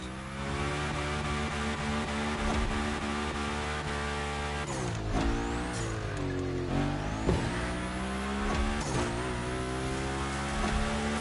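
A car in The Crew Motorfest slides and drifts with a steady, loud engine drone, its pitch sweeping up and down through repeated throttle shifts, tire squeal streaking over the top.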